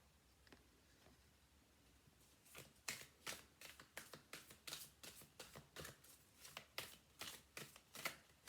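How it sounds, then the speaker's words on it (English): Oracle cards being shuffled by hand, a soft riffling that builds into a quick, fairly regular run of crisp flicks and snaps, close and quiet, with no talking. "let's pull you an oracle card"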